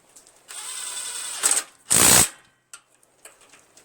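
A hand ratchet tightens valve cover bolts on a Briggs & Stratton 17.5 HP lawn tractor engine, heard as close, rapid clicking bursts: one long run, a short one, then a louder, brief final burst before quiet.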